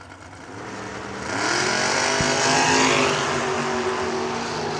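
A drag racing roadster, the Ray Ray's Barbecue car, launches off the line, its engine swelling from a steady roar to a loud, sustained howl with the rising whine of a second racer alongside and no talk over it.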